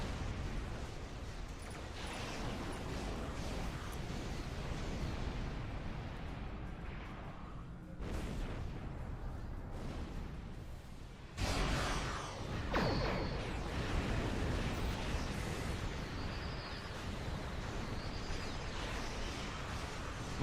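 Torpedoes launch and detonate in Star Trek Online space combat, with heavy booming bursts over a dense rumbling battle bed and a sharp loud blast about two-thirds through, with no talk.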